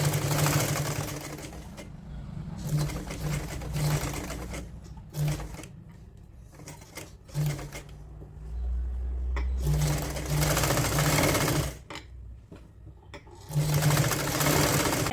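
A sewing machine stitching a woollen kurti comes in bursts of rapid mechanical whirring and clatter, several runs of a few seconds each, broken by short pauses and a few quick single stitches, close up.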